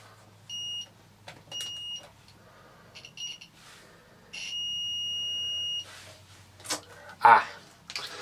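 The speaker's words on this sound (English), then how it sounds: "give it a beep test" A continuity tester beeps while checking the fuse of a vintage vacuum cleaner: three clear, steady electronic tones, two short and one held for over a second, with faint handling noise and a brief clatter near the end.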